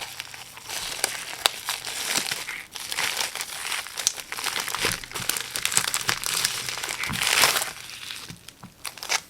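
Crinkling and crumpling of plastic packaging as a Kokuyo Jibun Techo Biz B6 planner for 2023 is unwrapped, with continuous close rustling, crackling and tearing throughout and no talk.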